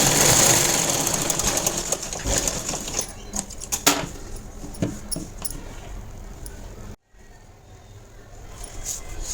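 A sewing machine stitches a plain blouse seam in short runs, its rapid mechanical whirr and clicks stopping and starting close by, with brief handling knocks and a moment of silence.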